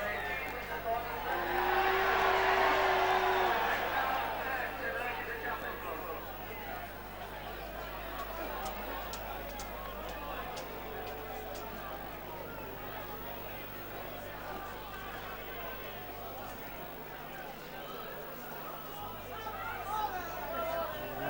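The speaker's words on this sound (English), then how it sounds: "Big cheer there going up" A crowd at a Batley versus Keighley rugby league cup match raises a distant cheer that swells early and then settles into a steady murmur, with a commentator talking over it.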